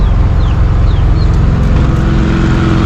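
An orange Kombi van crawls along slowly in second gear with a loud, steady, low engine drone and constant road rumble, close and alone.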